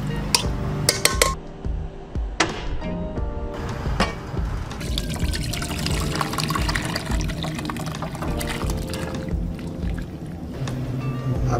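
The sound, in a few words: pressure-cooked beef korma being transferred into a kadai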